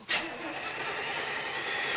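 A Ford Fairmont's car engine cranks and catches in cold weather at 35 below, a sharp start followed by a steady loud run with no voices over it.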